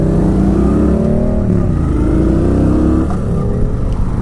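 A Kawasaki Vulcan 900 motorcycle engine while riding, a loud, steady, close rumble with subtle pitch shifts as the revs change, heard alone without talk.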